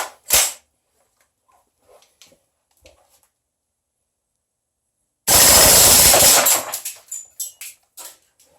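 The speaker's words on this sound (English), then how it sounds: "Yeah, I'd say that's a much faster rate of fire, but I am getting jams." S&T gas blowback airsoft rifle fitted with an AR15 buffer spring firing outdoors, a short shot followed by a dense rapid burst of about a second, then several separate sharp shots, close and loud with quiet gaps.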